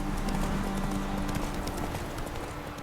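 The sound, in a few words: horse Roach trotting in the video game The Witcher 3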